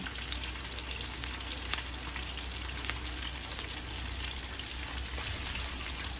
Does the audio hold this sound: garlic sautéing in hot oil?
yes